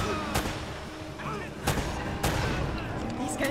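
Sustained video-game gunfire from Uncharted: Drake's Fortune, with repeated bursts of shots and booming blasts over a busy combat soundscape, loud and dense across the whole stretch.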